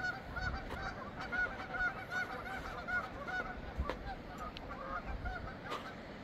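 Geese honk repeatedly in a noisy chorus on a mountainside near a nest, some calls close and others farther off, over steady outdoor wind rumble.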